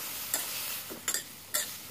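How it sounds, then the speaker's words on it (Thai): Water mimosa stir-fried with garlic and chilli in a hot pan, a steady close sizzle broken by three short scraping stirs spaced across the moment. "ก็เราจะผัดจนกว่าผักกระเฉดจะสุกนะคะ"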